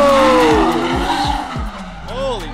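A car doing a burnout at a car meet event: loud, close tire skidding and squealing over a revving engine, with rhythmic rumbles. Excited voices are heard throughout.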